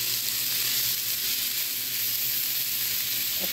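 Grated chicken fries with vegetables in a pan, giving a steady, even sizzle and hiss throughout, heard close up at a moderate to soft level with no talking.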